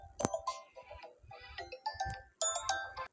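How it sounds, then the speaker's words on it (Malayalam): A mobile phone ringtone plays in a kitchen while sambar is being cooked: a bright, melodic run of chiming notes in short phrases with brief gaps, fairly close and clear. "ഒരു ഫോൺ ഇടയ്ക്കൊന്ന് വന്നു കേട്ടോ, സോറി."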